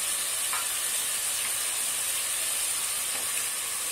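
Sliced bottle gourd tossed into a pan of frying shrimp produces a loud, steady, close sizzle and hiss that stays constant throughout.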